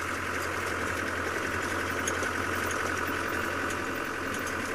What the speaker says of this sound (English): I'm sorry, Indigo Girl, the volume of this tremendously irritating engine is precluding my hearing you.